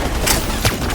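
Gunfire in the video game Mass Effect 3, a burst of rapid shots with two sharper cracks standing out, loud and close over a busy game soundscape.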